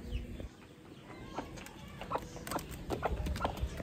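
Chickens cluck in short, scattered bursts near a goat being fed, heard faintly over an outdoor background hum with a few brief louder calls.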